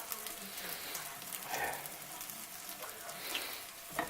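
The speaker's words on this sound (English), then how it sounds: "I'm going to saute it one more time" Snow peas sautéing in a pan for a cream sauce, a soft, quiet sizzle and light crackle with a few faint clinks, fairly steady throughout.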